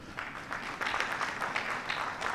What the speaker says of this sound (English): So now it's your turn to clap.